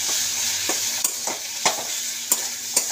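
Masala being stirred and fried in a pan with tomato and salt, a steady sizzle broken by sharp, repeated scraping strokes of the spoon at irregular intervals, close and alone with no talk.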